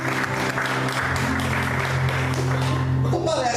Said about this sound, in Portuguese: Você pode aplaudir e glorificar a Deus por isso? Aplauda o Senhor nessa noite.